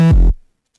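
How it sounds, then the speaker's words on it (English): A single short 808 drum fill in a trap-style funk beat: a deep, booming pitched hit with a quick pitch drop that decays to silence within half a second. "For good measures, I added an 808 fill"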